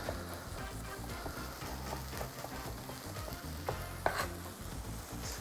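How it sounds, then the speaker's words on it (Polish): Onion fries in a pan with a soft, steady sizzle, interrupted by faint scrapes of stirring and a brief clink near the end. "Na początku przysmażamy cebulę, a następnie dodajemy czosnek."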